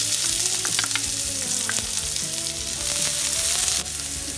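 Onion pieces frying in a pan with mustard seeds and cumin, a loud continuous sizzle with scattered pops and light stirring scrapes, close up and without speech.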